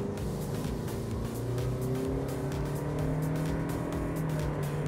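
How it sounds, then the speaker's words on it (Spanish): A 2023 Toyota Prius Prime AWD plug-in hybrid pulls away from a standstill, its engine drone rising in pitch as it gains speed, heard from inside the car with steady road and wind noise. "vamos a acelerar desde cero"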